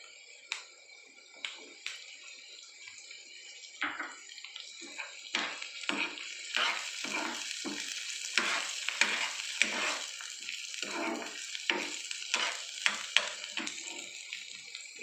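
Chopped capsicum frying in a pan for rava appe, with a steady sizzle that builds and thickens after the vegetables go in, punctuated by repeated scraping stirs and clinks of a spoon against the pan, close and loud, with no voices.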